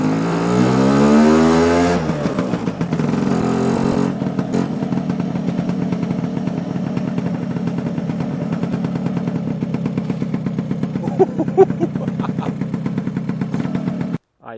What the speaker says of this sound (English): I will be out on the road testing to see how this rear brake fares.